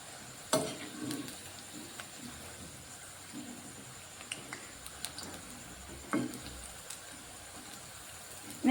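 Pakoras frying in a pan of oil while being stirred and turned, a steady soft sizzle with occasional scraping clicks and knocks from the stirring, close by.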